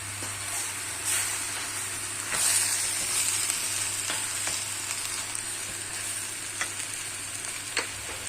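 Butter sizzling and frying in olive oil in a pan, a steady broadband hiss with occasional pops and stirring clicks, close and continuous with no talk.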